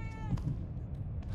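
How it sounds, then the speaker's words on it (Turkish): A cat in The Evil Within 2 gives a short meow heard over a dense, rumbling game soundscape. "Aa kedi. Thanks kitty."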